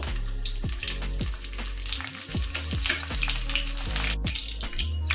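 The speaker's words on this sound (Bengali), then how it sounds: "সব উচ্ছেগুলোকে এভাবে দিয়ে একটু ভেজে নেব।" Bitter gourds stuffed with spices fry in a pan with a steady oily sizzle, broken by repeated clinks and scrapes of stirring, with no voices.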